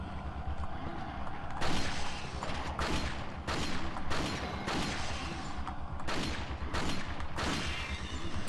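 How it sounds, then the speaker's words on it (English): Gunfire in the Resident Evil 4 video game: a string of sharp, loud shots in uneven bursts over a steady rumbling game background, with no talking. "I'll shoot you long distance then"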